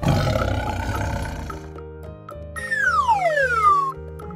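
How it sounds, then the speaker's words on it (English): A tiger gives one long, loud roar that fades out, followed by a bright descending musical swoop over a looping backing tune in a children's animal-sounds lesson. "Tiger."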